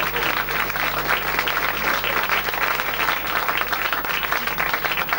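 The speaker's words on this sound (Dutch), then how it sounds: "Hartelijk dank en een warm applaus voor Kameran." Sustained applause from an audience, dense steady clapping filling the whole stretch without a break.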